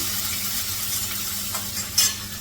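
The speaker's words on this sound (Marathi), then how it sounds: "हे चांगलं परतून घेते तेलामध्ये कांदा जरा" Chopped onion sautés in oil with a steady, close sizzle throughout, and a brief utensil clink comes near the end.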